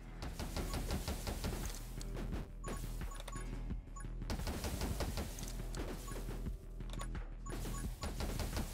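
Rapid rubber-bullet gunfire in the game 20 Minutes Till Dawn rattles in dense, continuous bursts over a thumping game soundtrack, loud and steady with a couple of brief pauses, no talk.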